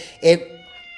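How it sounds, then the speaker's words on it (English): A pet cat named Chunky gives a single short, loud meow at close range, followed by quiet room tone. "that's my cat."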